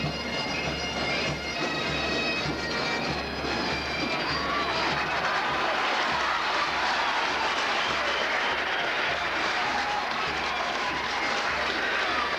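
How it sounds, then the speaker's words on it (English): Supporters at O'Connor Park, Tullamore, applaud a pipe band and the parading Carlow and Westmeath teams at the 1994 All Ireland B football final, a continuous broad crowd roar and applause with faint piping, steady and loud throughout. "as you hear both sets of supporters applauding the pipe band and the Carlow and Westmeath teams as they parade"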